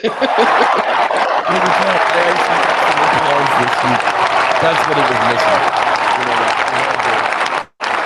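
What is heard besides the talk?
audience applause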